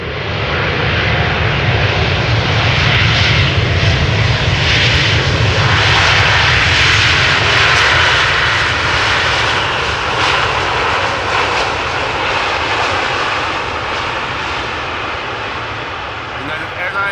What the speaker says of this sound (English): Airlines, flight 968, coming to the Netherlands from San Francisco.